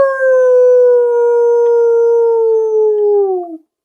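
A single long, loud howl holds one steady wavering pitch close up, then bends downward and cuts off into silence.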